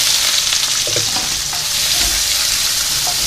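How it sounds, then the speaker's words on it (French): Onions and peppers sizzle steadily in a small amount of hot oil for a Beijing-style beef stir-fry, a dense continuous crackle with occasional light utensil taps and no voices. "je vais maintenant ajouter oignons et poivrons"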